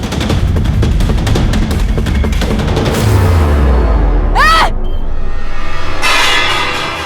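A rapid burst of gunfire crackles loudly at the start, followed by a deep rumbling boom and a sharp whistling sweep amid continuing noise.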